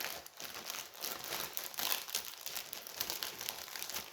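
Crinkly plastic rustling and crackling close up, a continuous dense crumpling texture as a bag is pulled and torn open.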